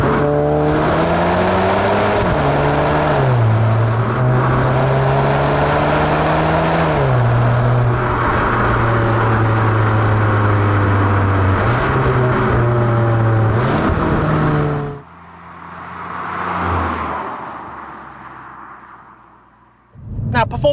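Turbocharged engine of a VW Golf GTI Mk7.5 accelerating hard through the gears, loud and close with rising revs and gear changes, then easing off to a quieter coast with a brief swell before picking up again.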